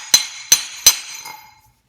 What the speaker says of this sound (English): Just take it and hammer it in on the edge there